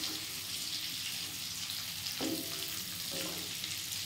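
Onions, about five medium ones, fry with around 500 grams of meat for chilli chicken while being stirred in a pan. A steady close sizzle runs throughout, with a couple of brief scrapes of the spoon.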